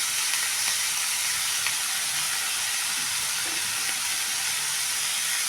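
Spices with coarse salt, coriander powder and sambar powder sautéing in a hot pan for a snake gourd gravy: a loud, continuous close sizzle and hiss throughout, with no other sounds.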